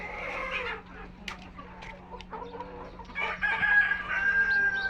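Several vaccinated Tiger breed chickens, about four months old, cluck and murmur nearby on a farm, with a rooster crowing partway through and a faint steady hum in the background.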